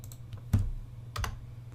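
Two quick bursts of clacking keystrokes on a new gaming keyboard, close and fairly loud against a low background hum, with a short pause between them.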